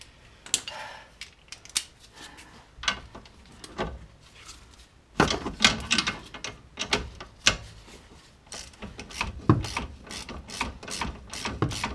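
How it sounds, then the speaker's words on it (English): A hand ratchet undoes a drop link on a 2004 VW Polo, giving irregular runs of sharp, close clicks with short pauses. The clicking grows busier and denser partway through. "Might be an idea to undo this drop link while I'm at it."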